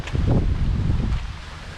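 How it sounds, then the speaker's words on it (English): Gusty wind on Horseshoe Crab Island near Titusville, Florida, buffets the microphone with low rumbling blasts, easing slightly toward the end, with faint rustling behind it. "It's very windy here."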